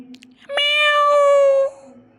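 A single drawn-out cat meow, loud and close, with clear rising-then-falling harmonic tone lasting about a second, alone apart from faint background murmur.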